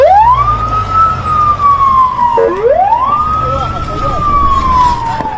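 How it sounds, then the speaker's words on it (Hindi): An ambulance siren wails through the streets of Gaza, two long rising-and-falling sweeps that sound loud and close over the rumble of traffic. "सड़कों पर एम्बुलेंस की गाड़ियां दौड़ रही हैं"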